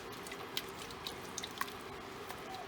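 A pot of vegetable curry with overripe tomato simmers on the stove, giving soft scattered pops and drips over a low steady hiss, faint and close.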